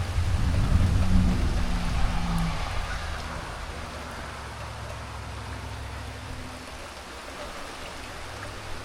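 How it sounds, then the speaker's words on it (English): Steady soft hiss of rain falling, even and continuous, slightly louder at the start, with no voices. "We're finally getting a little rain after weeks of drought."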